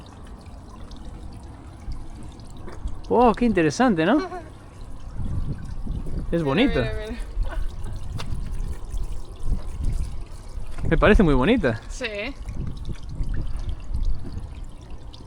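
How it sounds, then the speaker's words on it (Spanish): Water pours down a stone wall like a curtain, a steady close rushing and trickling wash that runs throughout while people talk over it at intervals. "como si fuese una cortina de agua."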